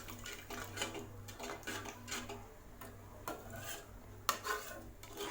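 Quiet, irregular scraping strokes of a spoon stirring egg masala gravy in a metal pan, with occasional light clinks.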